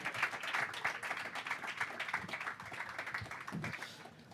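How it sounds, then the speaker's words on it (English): An audience applauds steadily at a developer talk for Angry Birds, a dense, moderately loud patter of many hands clapping that carries on without a break. "Big round of applause."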